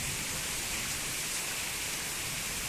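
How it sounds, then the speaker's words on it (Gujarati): A steady, dense hiss of heavy monsoon rain in Banaskantha, Gujarat, pours down without letup, broadband and constant, no voices. "ખૂબ જ ભારે વરસાદ પડી રહ્યો છે"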